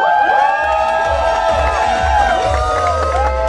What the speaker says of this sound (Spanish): ¡Fuertísimo el aplauso!